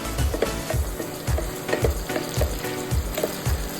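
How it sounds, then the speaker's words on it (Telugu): Green chillies and curry leaves frying in a pan for mutton curry, a steady close sizzle broken by rhythmic scraping strokes as the pan is stirred, no voices. "అలాగే పచ్చిమిర్చి వేసి బాగా ఫ్రై చేయాలి ఇందులో కొంచెం కరివేపాకు వేసి వీటిని బాగా ఫ్రై చేద్దాం"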